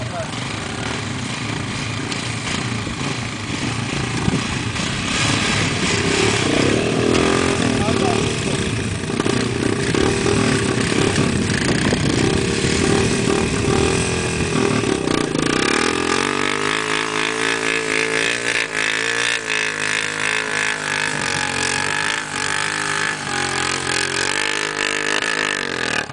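Motorcycle engines running and revving beside a river, loud and continuous throughout with shifting pitch as throttle changes, with voices talking over the engine noise.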